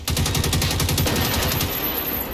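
Rapid automatic weapon fire in a video game, a dense unbroken burst of closely spaced shots, loud and near, lasting a couple of seconds without any talk.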